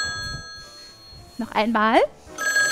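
A telephone rings in a television sewing-show studio, its steady electronic tone sounding at the start and again near the end, with a person briefly talking in between.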